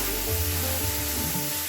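Ginger, garlic and tomato paste sizzles in hot oil, a dense steady hiss with soft bubbling, close and unbroken for the short moment, with no voices.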